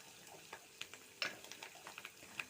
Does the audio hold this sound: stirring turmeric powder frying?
yes